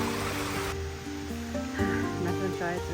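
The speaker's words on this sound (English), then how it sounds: "The second waterfalls." A waterfall at Placerita Canyon on a rainy day, its steady broadband rush filling the clip while voices talk over it.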